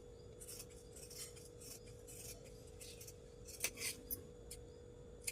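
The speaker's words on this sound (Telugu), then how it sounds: "కరెక్ట్గా ఇలా కట్ చేసేసుకోండి." Scissors cutting blouse fabric: quiet, intermittent snips and rasping slides of the blades through cloth over a low steady hum, with a few sharper cuts toward the end.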